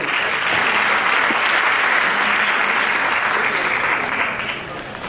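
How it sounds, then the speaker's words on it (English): A large audience at a temple presentation applauds for a team in a broad, loud wash of clapping that stays even for several seconds and then begins to taper off. "A big applause to Mamata ji's team."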